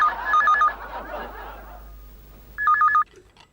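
A telephone rings indoors during a Hindi TV serial comedy scene, giving two short bursts of bright trilling rings a couple of seconds apart, with a faint murmur between them.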